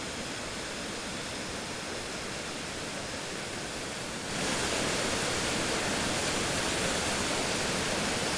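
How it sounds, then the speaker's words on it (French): The steady roar of the Cascade des Étrés waterfall in the Jura fills the scene, loud and constant, growing a little louder partway through as if moving closer. "Voici la cascade des Étrés."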